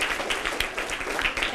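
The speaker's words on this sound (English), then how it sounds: "Give her another round of applause." Audience applause at a high school senior art show, steady dense clapping that carries on evenly throughout without a break.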